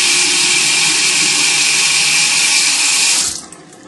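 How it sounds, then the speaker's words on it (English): Makeup brush rinsed under a steadily running tap, a loud, continuous hiss of water filling the sink that cuts off abruptly near the end. "And then I'll just rinse off the hair."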